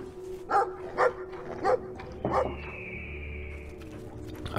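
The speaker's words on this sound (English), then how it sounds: "that's one of those fucking monster dogs" Monster dog from the video game Brothers: A Tale of Two Sons barking in four loud, evenly spaced bursts, followed by a whimpering whine, over a steady game soundtrack hum.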